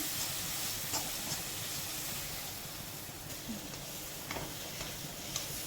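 Pav bhaji vegetables with kasuri methi are stirred and mixed in a hot pan, a soft, steady sizzle and hiss with faint scraping strokes, quiet and without talk.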